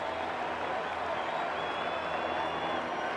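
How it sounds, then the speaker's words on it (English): Large ballpark crowd at a 1998 Chicago Cubs versus Milwaukee Brewers game awaiting a Sammy Sosa home run, a sustained roar of cheering and applause spread across the stands, steady and distant-sounding throughout. "the big crowd here wants to see history made once again"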